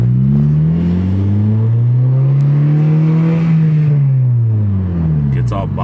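A 2015 Honda Civic Si engine with a Hondata tune drones steadily, its pitch climbing and then easing off as the car accelerates and bogs, loud and close throughout.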